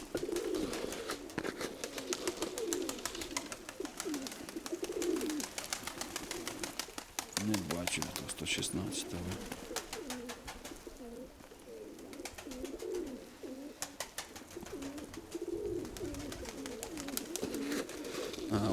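Homing pigeons in a loft coo continuously in rolling, overlapping phrases, with a brief flutter of wings partway through and someone talking over the birds at times.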